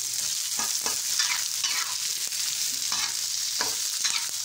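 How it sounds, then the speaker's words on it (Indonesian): Onion and chili stir-frying in a pan: steady loud sizzle with scraping stirs at irregular intervals, close up and continuous, no voices. "Saatnya untuk menumis bombay sama cabenya."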